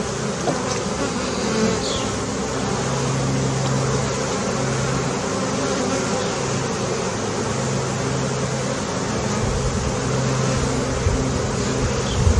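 Italian honeybees swarm around an opened hive during a July inspection, producing a dense, continuous buzzing drone close by, with individual bees zipping past the listener over the steady hum.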